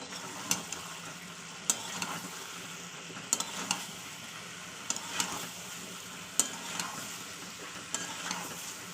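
Fried potatoes and eggs being stirred into spices in a pan, with a soft continuous sizzle under repeated scraping strokes and occasional sharp clinks of a spatula against the metal, close and steady, with no talking.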